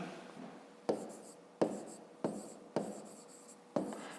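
A pen scratches on paper while a 5th-grade math answer is written out, in short bursts of scribbling with small taps between, close and quiet, no talking.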